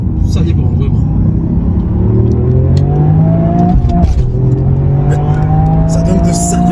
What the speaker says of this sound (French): je sais pas si vous entendez la sonorité du 3 cylindres